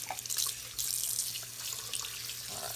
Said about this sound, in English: I'm just rinsing that acetone off